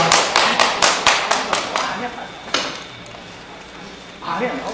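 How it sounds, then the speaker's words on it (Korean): A short burst of audience applause at a public hearing in Seoul, about eight or nine sharp claps in quick rhythm, then a single clap after a pause and a murmur of voices. "격려 박수 좀 치아주시기 바랍니다"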